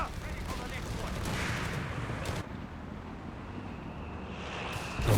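Bazooka blasts and gunfire in the video game Company of Heroes 3 during a 4v4 tank battle, a dense, loud barrage of overlapping shots and booms under a constant roar, with a sharp burst at the end.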